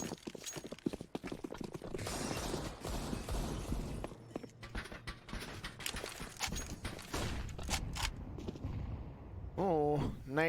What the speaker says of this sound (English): Oh, nades on Hydrex.